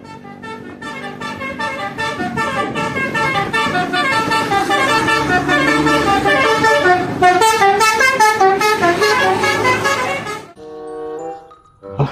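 A Palala bus passes close by, sounding a loud multi-tone musical horn in a long, continuous melodic run over engine noise, which then cuts off abruptly as the bus moves away.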